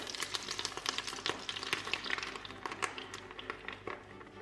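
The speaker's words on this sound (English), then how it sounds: "Here the butter is melting. It's about 50 grams of butter, and now we add the dough." Kaiserschmarrn dough hits about 50 grams of melted butter in a pan and fries with a continuous crackling sizzle, broken by the scrape and clatter of stirring.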